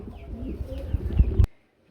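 Pigeons coo in a breeder's loft, a soft steady run of low, throaty coos that grows a little louder before a sharp click cuts it off into silence.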